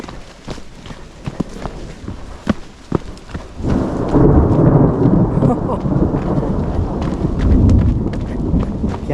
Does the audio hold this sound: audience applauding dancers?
no